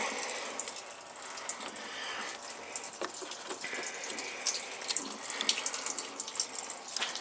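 Coolant drains from the radiator of a 2007 Toyota Sequoia, a faint steady splashing, trickling flow that stays constant throughout, with small irregular drips and ticks on top.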